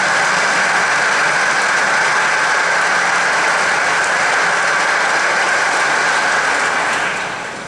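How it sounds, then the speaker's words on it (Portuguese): Church congregation at a Catholic triduum Mass for the martyrdom of Saint John the Baptist breaking into applause, a dense, even patter of many hands clapping for several seconds before tapering off. "Uma salva de palmas então para todo mundo."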